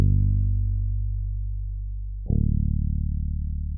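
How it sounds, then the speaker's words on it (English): A Rickenbacker bass plugin plays a sample bassline for a smooth soulful R&B beat: a deep, sustained low note holds, then shifts to a second sustained note midway. Loud and close, with no talking. "I just use this Rickenbacker bass that I always like to use."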